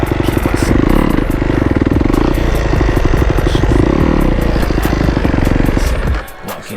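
Loud, steady motorcycle engine pulling hard in fourth gear during a wheelie, a dense continuous drone that holds for about six seconds before dropping away near the end.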